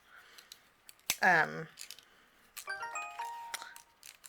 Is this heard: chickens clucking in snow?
no